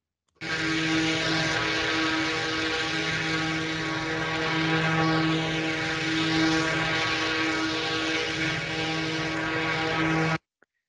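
Simulated flight of a small test drone: a steady, loud propeller drone with constant rotor speed and strong tonal hum, holding evenly for about ten seconds before stopping.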